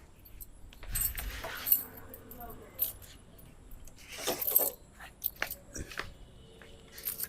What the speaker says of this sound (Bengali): বাইক লক দিয়ে দিই না।